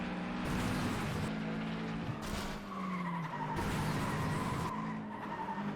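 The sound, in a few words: race cars skidding in FlatOut 2 video game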